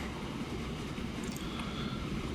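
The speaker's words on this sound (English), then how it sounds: "There's our train." A train rolls along the track in the railway simulation game Transport Fever, a steady low rumble of wheels and carriages running continuously at moderate level with no voices.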